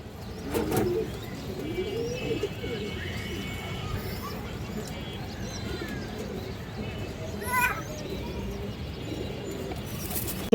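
Army nol pigeons coo softly in a low, steady murmur, with scattered chirps and faint background voices nearby.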